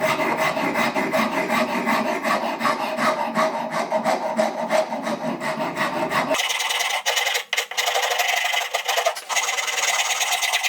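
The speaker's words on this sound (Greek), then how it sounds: "θα πάρω τη λίμα για να σβήσω τα σημάδια της ράσπας" A metal file works across wood to smooth away rasp marks, giving loud, steady, scraping strokes that run continuously, with a brighter, thinner rasp in the later strokes.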